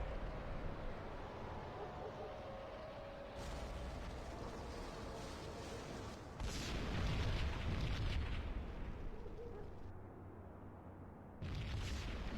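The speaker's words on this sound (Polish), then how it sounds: "W pobliskim budynku wybuchła kolejna bomba." A deep, booming bomb blast in the video game Max Payne swells partway through over a constant low rumble, then fades back into the background roar.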